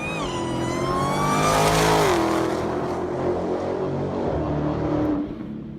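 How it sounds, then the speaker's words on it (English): A car engine revving hard and accelerating from a phone or speaker recording, a loud sustained roar with rising then falling pitch sweeps, like a race car pulling away, with no talk over it. "Car sounds."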